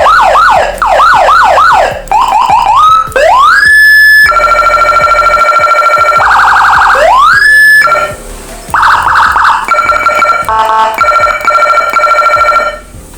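A Whelen V2 200W siren handle module with IC blares loud electronic siren tones, switching between rising wails, rapid yelps and warbling high-low patterns with no pauses and no talking.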